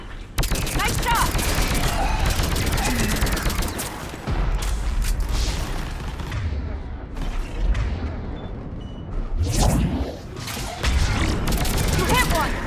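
Dense, loud gunfire in a Mass Effect 3 firefight, rapid bursts and booming shots in long stretches with short pauses, mixed with mechanical clanks and voices calling out over the shooting.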